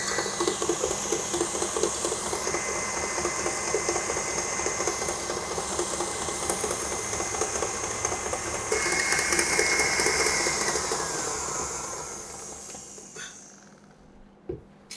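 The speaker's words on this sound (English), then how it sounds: "So I'm just going to continue beating this for 3 more minutes on high speed again." An electric mixer runs on high speed through eggless chocolate chip cookie dough, giving a steady close whirring hum that holds for a long stretch before winding down and stopping near the end.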